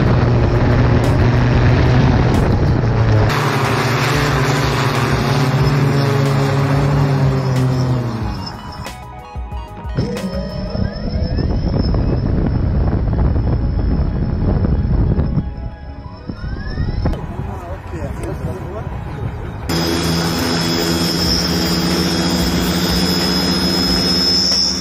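A Russian flying motorcycle, a hoverbike used by Dubai police, runs its engines in flight with a loud, turbine-like whine and rotor roar that shifts in pitch and intensity, dipping midway before surging again.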